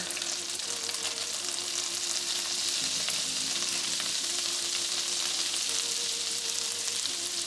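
Flour cooking in melted butter for a roux in a pan, a steady, dense sizzle and crackle that holds evenly close up with no talk.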